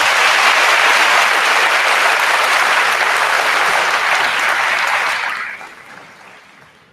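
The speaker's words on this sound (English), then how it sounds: "let's give these young ladies a round of applause again." Loud, dense applause from a commencement ceremony crowd honoring two valedictorians at Rocky Mount High School, sustained for about five seconds before tapering off quickly.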